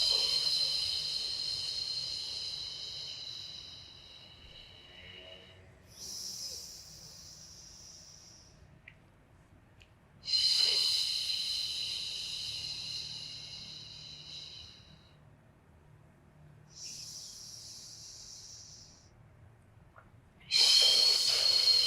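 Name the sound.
breathing in and out during Pilates exercise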